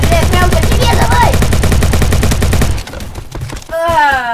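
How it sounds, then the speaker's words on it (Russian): Rapid automatic gunfire in the Roblox shooter Bad Business: loud, dense, continuous bursts for a few seconds, then a quieter stretch with scattered shots and a rising tonal effect. "Я стреляю прям по тебе"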